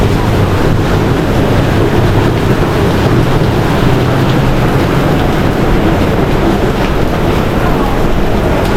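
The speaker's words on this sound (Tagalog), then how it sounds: "Agos, oh, may falls." Rushing water pours through a public market during a heavy downpour, a loud, steady, close roar of flowing runoff and rain that holds unbroken throughout with no pauses.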